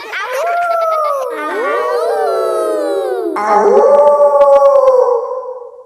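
Cartoon children's voices imitate a wolf, howling in long sliding overlapping cries that rise and fall together, loud and close with several voices joining in.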